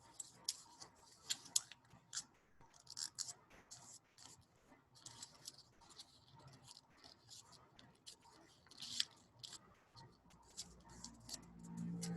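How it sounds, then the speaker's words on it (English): Paper flaps being folded for origami give quiet, close crinkles, soft taps and creases in irregular bursts over a hushed background. "So I'm going to take these flaps and fold them in."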